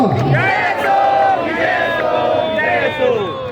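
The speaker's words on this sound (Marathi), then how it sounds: "आणि मी सर्वांनी एकदा टाळ्यांचा जयघोष करायचा आहे." A large crowd at a Bhima Koregaon commemoration cheers, shouting loud chanted cries in unison that rise and fall in repeated waves; no clapping stands out.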